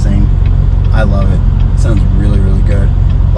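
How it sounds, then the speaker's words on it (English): A low-mileage Chevrolet C7 Corvette rumbles with a deep, steady exhaust burble, loud and close, while someone talks over it throughout. "That exhaust note's amazing. I love it, especially when you get a little bit of that burble in it."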